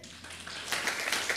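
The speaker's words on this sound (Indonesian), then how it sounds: "Tepuk tangan." A church congregation claps during a Sunday morning service, a short burst of scattered applause rising from quiet and swelling louder toward the end.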